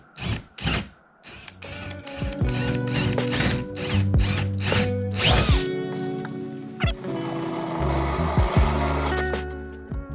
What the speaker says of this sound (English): we're gonna drill these out and put bungs in there